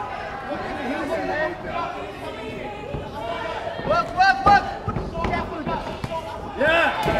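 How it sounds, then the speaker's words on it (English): Animated crowd at a Lion City Fury Championship boxing match, a steady near roar of chatter and cheering that swells in louder bursts around the middle and near the end. "The crowd is very animated tonight."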